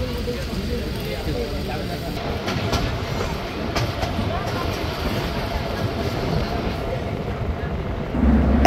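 The Banglabandha Express 804 rolls past Kanchan Junction toward the Kanchan bridge over the Punarbhaba river, a steady close rumble and rattle of wheels and carriages with a voice talking over it.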